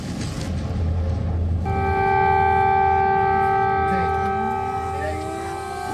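Air raid sirens wail across Kyiv, several steady tones overlapping and slowly bending in pitch over a low rumble of traffic, loud and sustained from a distance.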